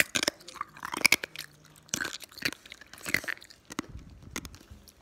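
Something hard and crunchy being bitten and chewed close up, with sharp irregular crunches spread over several seconds and quiet gaps between bites.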